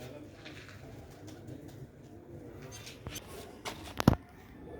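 A black-faced pigeon kept for sale gives a low coo against a murky background with faint voices, ending in a louder close burst near the end.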